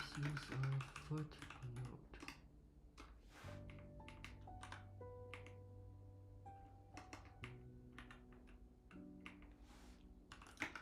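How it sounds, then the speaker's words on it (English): Keys clatter on a computer keyboard in irregular bursts during a livestreamed study session, sitting under sustained tonal notes from background music that fills most of the clip. "I'm typing"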